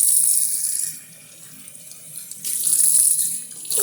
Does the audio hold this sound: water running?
yes